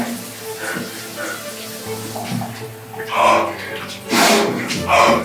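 A cold shower runs in a steady hiss of falling water that surges louder in bursts near the end, with faint talking at the start.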